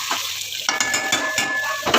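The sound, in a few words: potatoes with dried leaves being stir-fried in a pan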